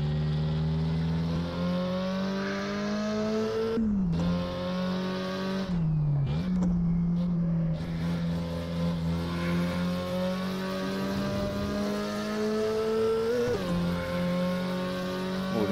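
A Porsche 356 Coupé engine running steadily on a track, its tone rising and dipping through gear changes and lifts, heard close and continuous for the whole stretch with no other sounds.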